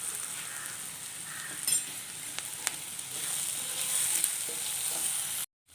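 Sliced onions sauté in a pan with a soft, even sizzle, a few light clicks of stirring, and a sudden stop at the end.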